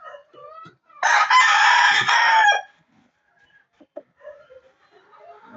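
An F1 Mount Banahaw gamefowl rooster gives one loud crow that lasts about a second and a half, close by, with faint clucks and other bird calls around it.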